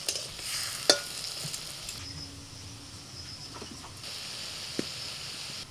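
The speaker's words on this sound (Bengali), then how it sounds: "এই দেখুন বড়াগুলো ভাজা হয়ে গেছে, এবার তুলে নিলাম।" Egg and ridge gourd fritters fry in hot mustard oil with a steady soft sizzle, broken by a few sharp clinks and scrapes of a spoon or spatula against the pan; no voices.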